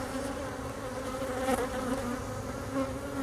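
Honeybee workers fly back to a newly moved hive box, a dense, continuous buzzing swarm close by, with no talking.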